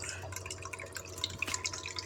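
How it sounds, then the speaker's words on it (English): Water runs over a Black Scorpion gold wash table used to wash quartz and catch gold, making a faint, steady trickle with scattered drips and splashes under low background hum. "at least some water flowing"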